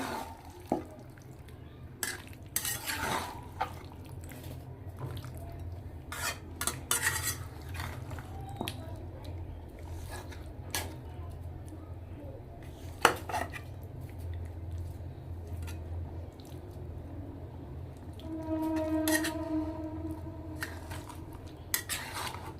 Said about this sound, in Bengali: এখন আমি উল্টে পাল্টে নেব রান্নাটা চুলায় আঁচ হবে কম